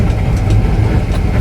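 An old B-class truck engine idles with a steady, loud, low rumble, close and continuous with no talk over it.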